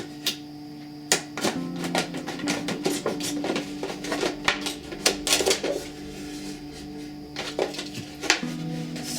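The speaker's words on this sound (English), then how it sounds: "I'm going to cut a line around probably 4 inches." Scissors or a blade snip and crunch through a plastic jug as it is cut open for winter sowing, giving irregular close clicks and crinkly taps scattered over a faint steady hum.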